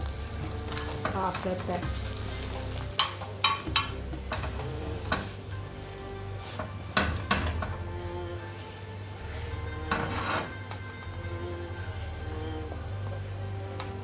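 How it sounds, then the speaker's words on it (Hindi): An egg fries on a tava over a low flame, with a soft continuous sizzle broken by sharp spatula scrapes and clicks, and a brief spoken remark partway through. "अभी अंडा अच्छे से कुक नहीं हुआ"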